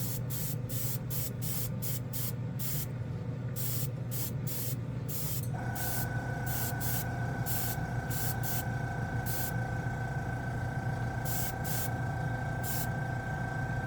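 A NEOECO airbrush sprays paint onto a Gunpla model piece in short repeated bursts of close hissing. A steady compressor hum runs underneath, its pitch shifting partway through, and no one speaks.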